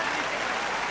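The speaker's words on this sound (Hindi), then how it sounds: "हाथ खड़े कर लो, ताली बजा लो, माहौल बनाओ।" Audience at a Hindi comedy poetry recital (hasya kavi sammelan) bursts into dense, sustained clapping, a loud, even wash of many hands with no pauses through the short stretch.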